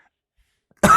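A single short, close cough from a man bursts out after near silence at the very end.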